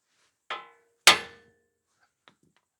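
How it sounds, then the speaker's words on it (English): Two sharp metallic hammer blows on a Mazda CX7 tie rod end during front wheel bearing replacement, the second louder and ringing briefly, followed by a faint small tap. "use a hammer and hit this section here"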